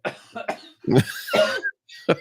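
Several sharp coughs in quick succession, close and fairly loud, with a short break before one final cough.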